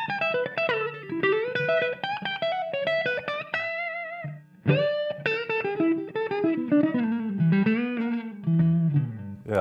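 Electric guitar played through a Hall of Fame reverb pedal on a small-room setting, a continuous melodic line of picked notes and chords with a short, close ambience, loud and clear with no talking.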